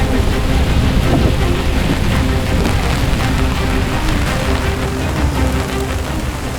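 Heavy rain pours down in a dense, continuous roar at a beach campsite in Zambales, loud and close, with a low rumbling undertone.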